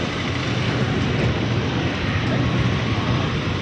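An Air Force airplane coming in to land near Begumpet gives a steady, loud broadband engine roar that holds evenly throughout, with deep rumble underneath.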